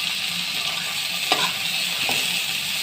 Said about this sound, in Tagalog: Gisa-gisa na muna natin